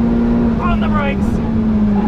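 A Ferrari 458 Speciale brakes hard on an international race circuit, its engine note dropping through a few quick downshift blips over a loud steady drone, heard from inside or close to the car.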